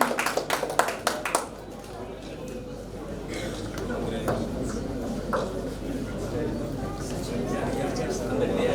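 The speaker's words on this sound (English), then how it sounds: "request all of you give a huge round of applause to them" Audience at a school award ceremony giving a short burst of close, loud hand claps that stop after about a second and a half, followed by a murmur of crowd chatter and voices.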